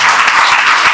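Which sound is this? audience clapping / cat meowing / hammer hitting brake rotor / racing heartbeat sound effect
audience clapping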